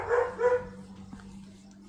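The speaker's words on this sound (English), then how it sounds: "I'm gonna ask if they can hear the dogs." Dogs let out two quick barks close together at the start, then go quiet over a low steady hum.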